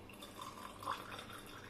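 A glass of water poured into homemade watermelon sharbat, a soft, faint trickle and splash with a brief louder slosh in the middle and no talking.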